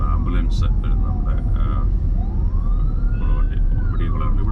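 An ambulance siren rises and falls in slow wails through busy city traffic near the Medical College in Trivandrum, moderately distant over a constant road rumble, with a person speaking.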